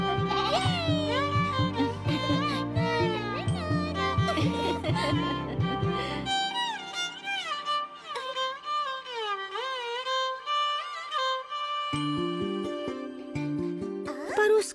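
Cartoon sheep bleat in a series of wavering calls over a musical background, some overlapping. The bleats stop briefly midway and then return.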